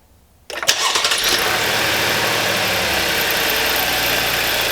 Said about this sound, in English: we'll start it up, let the oil pressure build